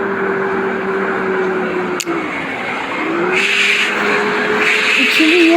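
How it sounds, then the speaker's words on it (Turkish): A car engine drones steadily in a driving video game, with a sharp brief impact at one point as another car hits from behind, followed by rising engine pitch and tire noise. "Arkadan bir araba geldi çarpıyor."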